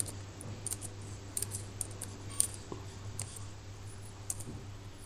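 A computer keyboard typing a Linux terminal command: scattered light key clicks, some in quick clusters, faint and alone over a low steady hum.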